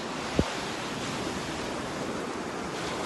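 Ocean waves on a beach in Costa Rica, a steady, broad wash of surf noise with a wind-like hiss and one brief thump near the start.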